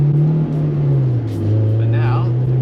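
A Honda S2000 with an aftermarket exhaust drives along a canyon road, its engine a loud, steady, low droning note that dips and rises slightly as the car pulls ahead.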